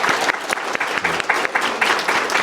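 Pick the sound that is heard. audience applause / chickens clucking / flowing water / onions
audience applause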